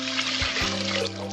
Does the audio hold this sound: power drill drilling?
no